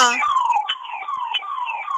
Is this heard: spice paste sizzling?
no